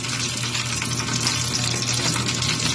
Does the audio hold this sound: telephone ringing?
no